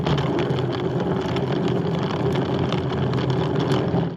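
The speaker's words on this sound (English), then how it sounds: "They're just plastic, janky wheels." Plastic wheels of an RV cassette toilet roll across the floor in a steady, loud rattling rumble that keeps going without a break, with no talking.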